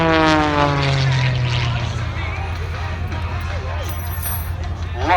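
A single-engine aerobatic biplane with full-span ailerons drones loudly at an air show on the Central Coast, its steady propeller roar continuous and near while someone talks over it.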